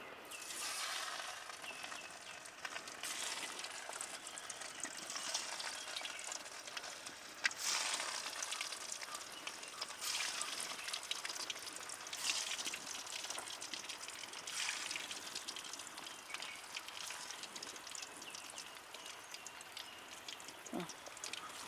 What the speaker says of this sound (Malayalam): ഇതുകൂടി നമുക്ക് പൊരിച്ചെടുക്കാം